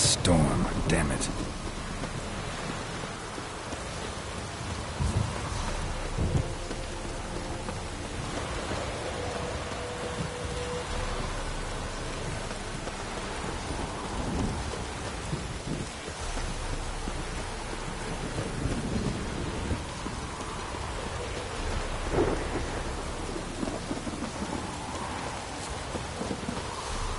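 Rain pours steadily through a thunderstorm in a Witcher-style PS4 game, with thunder rumbling low and continuous hiss filling the scene; a voice speaks briefly over it.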